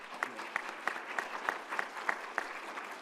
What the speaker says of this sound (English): giving them a round of applause as well